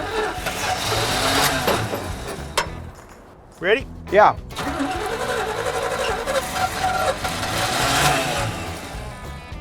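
The old engine of a 1973 square-body Chevy that has sat for 20 years cranks with a steady churning whir, pauses briefly while people exchange a few words, then cranks again without catching.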